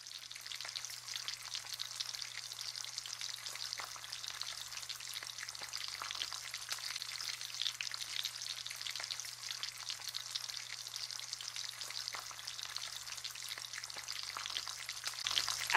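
Potatoes fry in butter in a pan with a steady, close sizzle and soft crackle, plus a faint low hum underneath, holding even for the whole stretch without talk.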